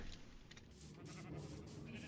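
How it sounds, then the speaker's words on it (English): Sheep bleating in Minecraft: a short, faint bleat that stands out briefly over a quiet background, with no talk. "What's wrong with you, sheep?"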